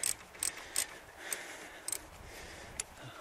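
A ratchet tightening a brake caliper bolt on a Renault Mégane during a front brake job, heard as several quiet, separate clicking bursts spaced irregularly, close by, with no talk.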